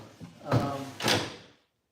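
A desk drawer slides back into its cabinet in a workshop, giving two short wooden sliding thumps about half a second apart, fairly close and clear, with no talking.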